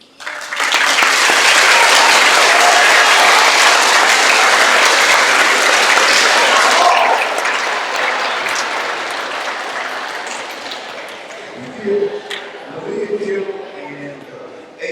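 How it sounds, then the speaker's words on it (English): Loud, sustained audience applause fills a middle school Black history program ceremony, then fades into lighter clapping while a voice speaks over the tail end. "And HMS Chorus and Katie Gore with another round of applause."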